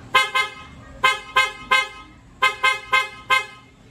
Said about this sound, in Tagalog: sound check tayo sa busina